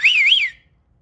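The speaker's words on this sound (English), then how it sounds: "going to get you to be able to whistle loudly without your fingers" A loud, clear fingerless whistle, close up and alone, with a rising and falling warble lasting about half a second before it cuts off into silence.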